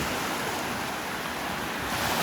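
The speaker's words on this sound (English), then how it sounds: "let you hear the roar of the Gulf of Mexico" Surf of the Gulf of Mexico at Lido Beach in Sarasota rolls in as a steady, broad roar of breaking waves with a light wash of wind, and no voices.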